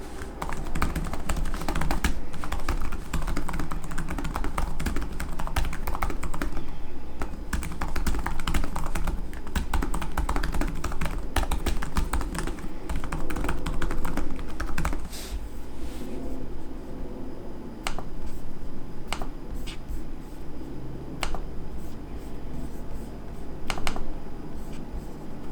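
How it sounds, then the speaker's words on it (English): Rapid, steady typing on a Lenovo Slim 7i Carbon laptop keyboard fills the first half, then slows to scattered individual clicks and trackpad taps, close and clear. "Here's a quick demo of what it sounds like to type on the keyboard and use the trackpad."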